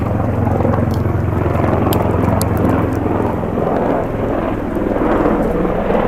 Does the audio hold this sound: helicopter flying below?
yes